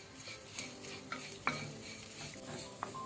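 Coriander seeds and curry leaves roast over a low flame in a little coconut oil, giving a soft, steady sizzle broken by several sharp scrapes and clinks of a spatula against the pan.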